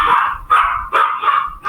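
A dog barks repeatedly over a Discord voice call, four or five sharp, loud barks close to the microphone in quick succession with short gaps between them.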